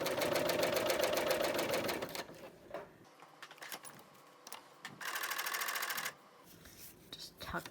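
Sewing machine stitching a rolled hem on fabric with stabilizer, rapid close mechanical needle clatter in two bursts separated by quiet handling and rustling.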